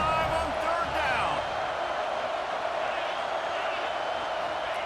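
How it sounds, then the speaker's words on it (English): An Ohio State Buckeyes home stadium crowd in EA Sports College Football 26 roars in a steady, dense wash of cheering on third down, with a commentator talking over it. "The Buckeye crowd alive on third down."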